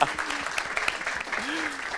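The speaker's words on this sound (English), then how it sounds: "Let's give Andy a big round of applause." A seated audience at a talk on city leadership gives a round of applause, steady moderate clapping throughout with faint voices mixed in.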